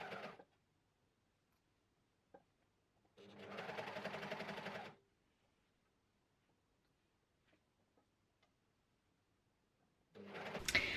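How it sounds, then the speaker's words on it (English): An overlocker sews an elastic waistband onto pants in short bursts: a brief whir at the start, a steady two-second run in the middle, and another burst at the end, with quiet gaps between. "the elastic waistband is now fully attached with the overlocker"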